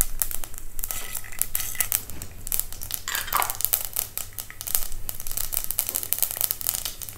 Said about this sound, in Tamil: முதல்ல தேவையான அளவு கடுகு சேர்த்துக்கலாம்